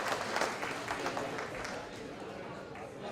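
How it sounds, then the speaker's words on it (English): Scattered applause from an audience, moderately distant, with a voice speaking over the clapping. "So a great round of applause for every single one of you."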